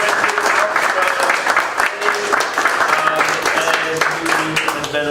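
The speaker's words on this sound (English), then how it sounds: "So let's give a round of applause for Bob Moore from RJ Metrics" An audience at a startup meetup applauds with dense, sustained clapping throughout, and a few voices can be heard mixed into the noise.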